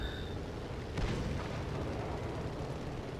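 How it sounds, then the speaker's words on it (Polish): Explosions rumble in a World of Tanks battle with an M24 Chaffee, where a deep booming blast lands about a second in over a constant heavy low roar of engines and fire. "Coś niesamowitego, jeśli chodzi o te wybuchy"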